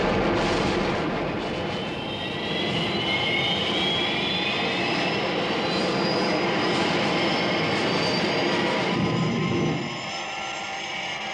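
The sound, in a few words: Thunderbird 1 aircraft engine, animated show effect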